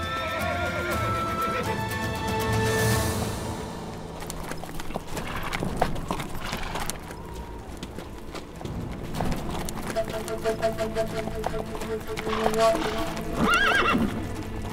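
A horse's hooves clip-clop steadily as it is led along, and the horse neighs and whinnies loudly at moments, amid an outdoor setting with background music and movement.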